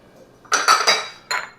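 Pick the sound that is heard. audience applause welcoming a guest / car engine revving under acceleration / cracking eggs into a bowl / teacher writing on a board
cracking eggs into a bowl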